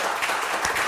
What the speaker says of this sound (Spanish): Un aplauso para Vini esta noche